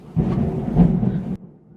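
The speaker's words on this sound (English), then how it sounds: "It's thundering outside." Thunder rolls outside during a storm under a tornado watch: one loud, close rumble swells for just over a second, then cuts off, with no voices over it.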